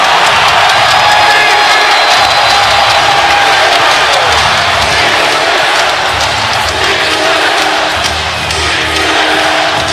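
Loud, roaring arena crowd at an NBA playoff game (Clippers vs. Jazz, Game 6, fourth quarter) cheering after a three-pointer, a dense sustained wall of voices and whoops running the full length without letup.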